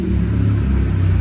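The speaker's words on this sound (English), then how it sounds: "Woo, that's a loud motorcycle." A loud motorcycle passes on a street in Lyon, France, a close, heavy engine rumble that stays strong and steady throughout the brief moment.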